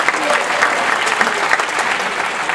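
A crowd applauds steadily, dense clapping at an even level for a couple of seconds with no talk over it.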